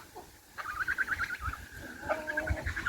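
A red-feathered hen chatters in a yard, giving a quick run of soft, pulsing clucks followed by a second string of calls after a brief pause, fairly quiet and close by.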